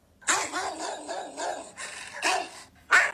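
A chihuahua barks in several sharp, close bursts: a busy run of yapping barks followed by two louder barks near the end, with no talking.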